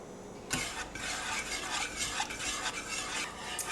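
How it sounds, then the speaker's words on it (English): Cold unsalted butter being whisked into a mixture, a steady close scraping and swishing that starts abruptly and runs on without pause, with no voices. "now with cold butter, we're going to whisk in a cup and a half of unsalted butter"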